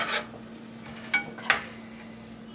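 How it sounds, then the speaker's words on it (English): A metal pot clanks and a spoon scrapes and stirs while stuffed baked mushrooms cook, giving a few sharp clinks over a low steady hum, fairly faint, with no talking. "Sorry for the noise of the pot and the clanking of the spoon and whatnot."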